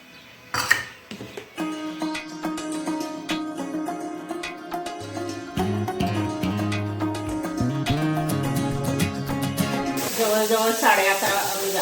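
Spices for tempering go into hot oil for a dal and sizzle, with a hissing burst rising near the end over steady melodic background music.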